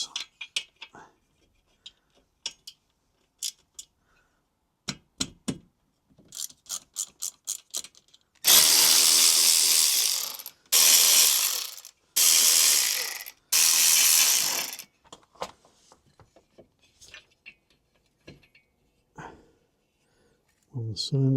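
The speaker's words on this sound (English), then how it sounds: "So we'll undo the head bolts." A ratchet loosens the cylinder head bolts on an engine with a thin aluminium gasket. Quick bursts of clicking are followed by several long, loud ratcheting runs. Talk comes in between the bursts.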